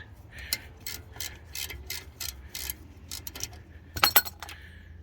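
A ratchet wrench undoes an E11 Torx bolt on the brakes of a 2017 Mercedes-Benz C220d AMG Line, with a close, rapid series of clicks followed by a louder metallic clatter near the end.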